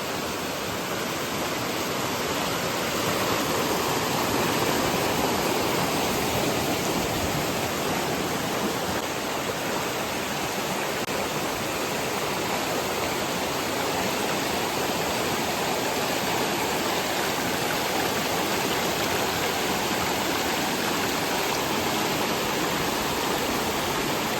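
A loud, continuous rush of flowing water fills the whole stretch, steady and broadband, where two rivers meet in the monsoon season, like a fast river or small falls nearby.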